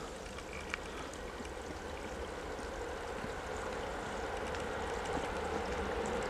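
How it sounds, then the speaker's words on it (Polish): Faint, steady rushing of stream water flowing toward Sędziszów, continuous and unbroken with no voices. "I ta woda tu płynie gdzieś w kierunku Sędziszowa."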